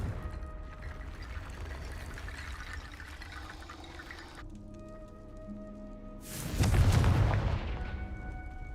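A Confringo blasting curse in Hogwarts Legacy lands as a sudden, loud, broadband burst that follows a stretch of layered ambient game sound. The burst decays into a rushing, watery roar over a couple of seconds.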